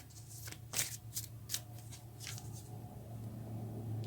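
Tarot cards shuffled by hand and drawn from the deck, a few soft riffling bursts close up and quiet, with no voices.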